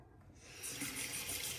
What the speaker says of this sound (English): Nothing missed, let's rinse.